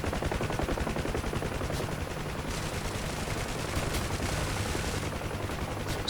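Rapid machine gun bursts from a UH-1H Huey helicopter in the DCS World combat game, fairly quiet and continuous, with dense repeated shots over a steady rotor-like drone.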